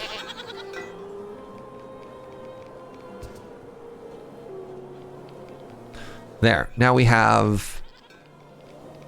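Goats in the Farthest Frontier village-building game bleat in a short burst of several loud, wavering cries, preceded by a quiet ambient soundtrack with someone talking briefly.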